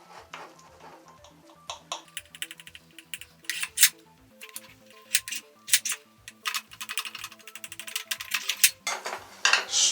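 A breakfast bake of shredded hash browns, bacon, cheese and eggs is cut in its pan: a run of close, irregular clinks and scrapes of a utensil against the pan, without talk.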